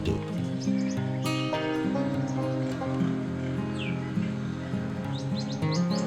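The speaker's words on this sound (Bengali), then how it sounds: "পাখিরা এখনো ডেকে চলেছে।" Scattered high bird chirps and tweets sound over a dense, steady background hum at Itachuna Rajbari under a darkening, cloudy sky, with a few clear calls standing out now and then.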